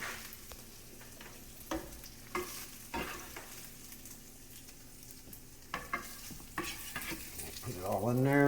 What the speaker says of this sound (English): Brown it just like you would brown some hamburger.